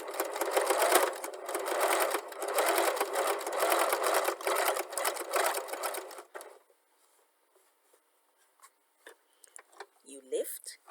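A sewing machine stitches patchwork strips held under the presser foot, a close continuous whir of rapid stitching for about six seconds that then stops, followed by faint handling noises and a brief voice near the end.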